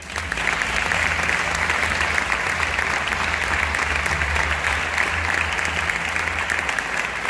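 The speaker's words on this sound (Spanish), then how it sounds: "Un aplauso fuerte para Gonzalo Madrid." An audience at a round-table event on technology and creativity claps steadily and densely, a sustained wash of applause that stays even from start to finish.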